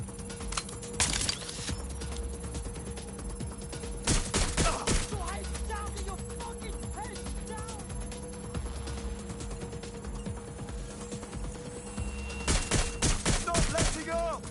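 Video game gunfire in Watch Dogs: Legion comes as a few short bursts of rapid shots over a constant hum of game music and ambience, with the bursts clustered near the start, middle and end.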